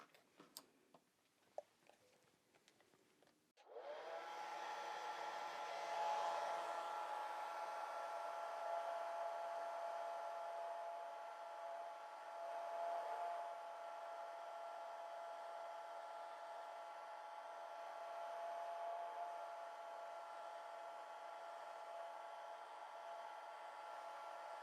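A hair dryer blows over a watercolor eagle painting. After a few light taps, a steady, close whirring rush starts and holds evenly for about twenty seconds.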